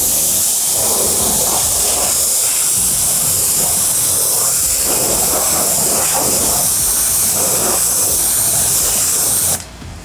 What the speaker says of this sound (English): And then what's left, once again, you just rinse the tire off.